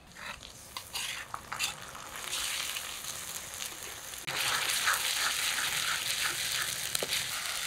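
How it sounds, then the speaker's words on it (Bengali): Ground onion, garlic, ginger and chilli paste sautéing in a kadai, a continuous soft sizzle with scattered stirring clicks and scrapes, growing louder and steadier midway. "অল্প কষিয়ে নিলাম যাতে কাঁচা গন্ধটা চলে যায়"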